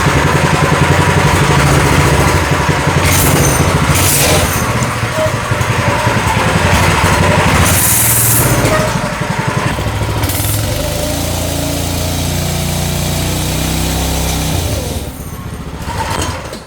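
A 212cc engine on a motorized bike pusher runs steadily at close range, a rough buzzing idle that revs and sputters, staying loud for most of the clip before easing off near the end.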